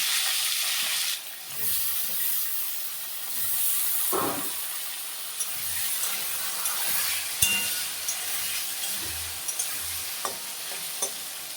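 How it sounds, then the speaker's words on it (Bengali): Pointed gourd, potato and tomato fry in a hot pan, giving a steady, close sizzling hiss throughout, with a few soft stirring knocks and clinks along the way. "টমেটো পটল আলুগুলো এখন আমি দিয়ে দিচ্ছি"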